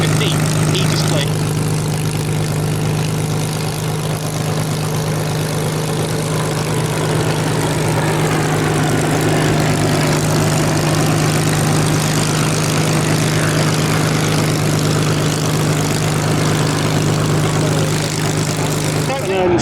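A de Havilland Dragon Rapide biplane performs a spirited airshow display at Shuttleworth, its piston engines giving a loud, steady drone with a strong low hum that holds throughout, with a commentator's voice mixed in.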